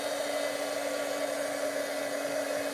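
A heat embossing tool blows hot air with a steady, even whir that holds alone at one level throughout.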